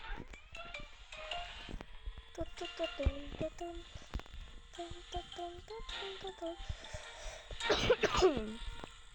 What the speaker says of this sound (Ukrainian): Я заболів, то я трошки буду покашлювати на відео